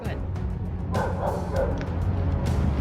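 A neighbour's dog barks somewhere off to the side, yips and bow-wows scattered through a steady low background hum; a voice is faintly present too.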